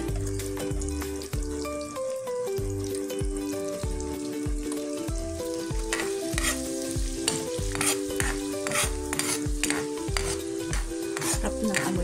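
Garlic sizzling in butter with shrimp in a pan, a loud continuous frying hiss with repeated stirring scrapes and utensil knocks up close, no talk.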